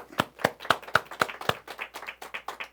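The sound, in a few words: congregation applause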